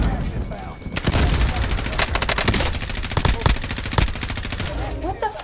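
Rapid automatic gunfire in a shooter video game, loud, close bursts rattling almost continuously for several seconds, with brief pauses and a voice talking underneath.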